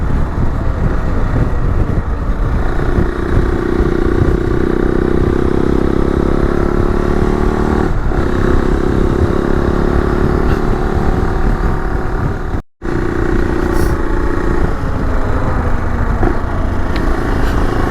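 An adventure motorcycle rides along a road, its engine droning loudly and steadily with rising and falling pitch as it shifts, under heavy wind rush, with a brief dropout near the end.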